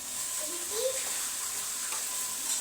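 Fish frying in a pan gives a steady, bright sizzling hiss close by, with a faint voice-like murmur briefly underneath.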